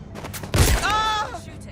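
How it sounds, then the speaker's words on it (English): Gunfire in the Watch Dogs Legion action video game, a sharp burst of shots with a heavy low thump, mixed with a voice and other game sounds, all fairly close. "Shooting."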